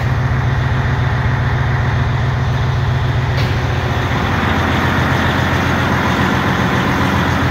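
A Detroit 12 diesel engine swapped into a truck in place of a KamAZ 15 runs loud and steady with a deep rumble, its pitch climbing a little as the throttle is blipped.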